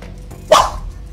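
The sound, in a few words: dogs barking in the yard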